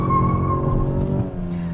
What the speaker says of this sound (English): This wants to rip its tires off.